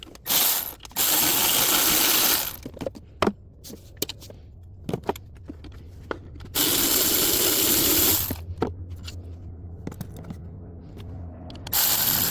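A ratchet loosens the alternator nut on a 2012-2017 Chevrolet Equinox in two long bursts of rapid, close clicking. Scattered single clicks and short runs fill the pauses between them.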